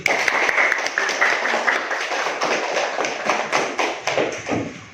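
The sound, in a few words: children clapping hands in class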